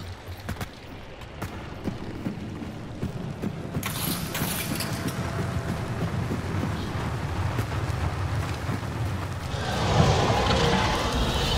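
Gunfire in a survival-camp multiplayer video game, heard as a dense, continuous rumble of shots and explosion-like blasts with a louder burst near the end, no clear speech.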